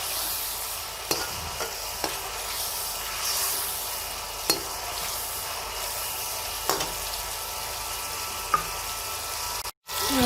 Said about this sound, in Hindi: अब हम इसको मज़ीद 1 से 2 मिनट के लिए फ्राई करेंगे ताकि टमाटर और ये प्याज यकजान हो जाए।